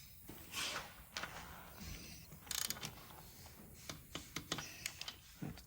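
A torque wrench ratchets as bolts on the cam of a Harley-Davidson M8 Street Bob 114 are tightened, giving sharp metallic clicks and rattling mechanical handling, close by and uneven in rhythm.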